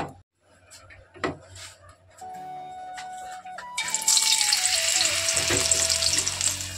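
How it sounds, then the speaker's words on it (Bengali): Potatoes sizzling in hot oil, the frying swelling loud after a few seconds of quieter kitchen clatter and clinks, with a steady crackling hiss throughout. "এখানে হচ্ছে আলু ভাজছি"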